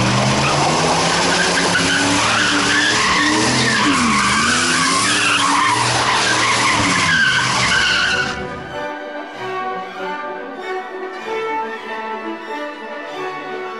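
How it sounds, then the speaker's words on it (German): An Opel Manta drives inside a hall in a car museum, a loud sustained roar with tyre squeal and skidding for about eight seconds, then a quieter tonal hum continues. "Ihr merkt, in der Halle fährt gerade ein Auto. Das ist der Manta."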